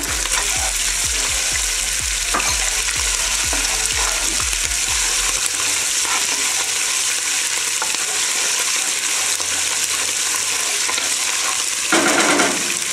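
Bacon added to a pan for a tomato pizza sauce, crackling and sizzling loudly and steadily, with a few low thumps early on, close and without talk.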